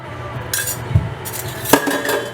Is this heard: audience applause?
no